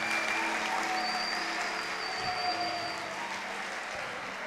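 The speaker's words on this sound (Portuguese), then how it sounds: "palmas para ele" A church congregation breaks into steady applause during a sermon, dense clapping at a constant level with a faint tonal hum underneath and no speech over it.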